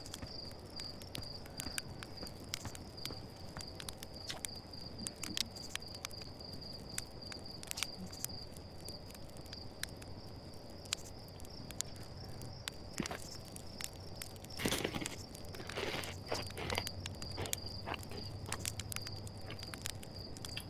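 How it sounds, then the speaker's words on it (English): Steady insect chirping from crickets in the video game Outer Wilds, a constant high trill running throughout at low level, with faint footsteps and a few sharp clicks underneath, no talking. "Crickets."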